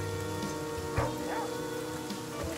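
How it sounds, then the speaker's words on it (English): Steady rain falling in the survival video game The Flame in the Flood, a dense continuous hiss of drops on surfaces with faint low rumbles, no voices. "And while it's raining right now, I should fill my jar."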